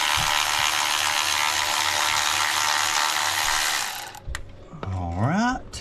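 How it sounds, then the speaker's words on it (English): An 8mm socket on a hand ratchet clicks steadily as a bolt comes out of a Ford F150 3.5L engine during a valve cover gasket job, a loud, fast, close ratcheting that stops near the end and gives way to a brief squeak. "grab an 8mm, put it in the ratchet, pull this bolt here"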